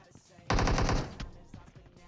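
Automatic gunfire in PUBG Mobile, one loud rapid burst of about half a second, close and sharp, then quieter game sounds after.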